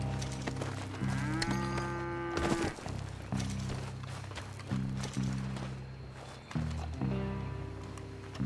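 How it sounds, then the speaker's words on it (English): Cattle being herded out in the video game Red Dead Redemption 2, with a mix of animal sounds, hooves and movement over a steady, busy game soundscape, punctuated by repeated deeper tonal bursts throughout. "doing a good job getting the cattle out"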